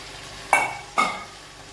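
Two quick scraping strokes of a spoon through potatoes and crushed peanut powder in a pan, close and fairly soft, with a faint background hiss between them.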